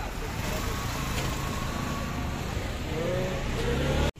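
Road traffic stalled in a jam where asphalt is being laid during road work, with a continuous close engine drone and idling vehicles, rising slightly toward the end before cutting off abruptly.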